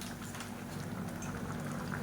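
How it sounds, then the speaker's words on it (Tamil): Vendakkai pachadi, okra in tamarind with coconut paste, simmers and bubbles in a pot, a soft steady burble of small pops with no talk. "இப்போ நல்லா கொதிச்சிருச்சு."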